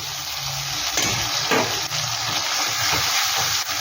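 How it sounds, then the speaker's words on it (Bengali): Ginger, green chili, poppy seed and cashew paste fry in a pan for a vegetarian fish kofta curry, giving a steady close sizzle and hiss that runs throughout with small bubbling pops. "এটা একটু ভালো করে আমি ভেজে নিচ্ছি"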